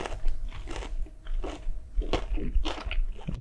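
McDonald's chicken nuggets with cheese and speck bitten and chewed up close, a run of loud crisp crunches in quick irregular bursts with no talking.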